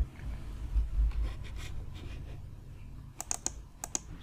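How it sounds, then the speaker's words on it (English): A URL being typed on a computer keyboard: quiet, irregular key clicks in short clusters over a low background hum, with a few sharper taps near the end. "Now I will type the URL of my site."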